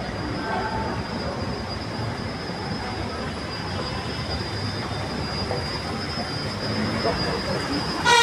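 A light rail train at Recto LRT station in Manila rumbles steadily with wheel squeal and clatter, loud and close, ending in a brief rise at the very end.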